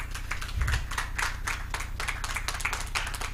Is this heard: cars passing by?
no